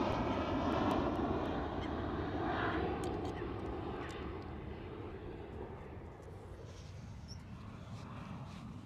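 A KLM Cityhopper Embraer E190 airliner at Schiphol Amsterdam rumbles at a distance, a faint, steady engine roar that slowly fades, with no one talking.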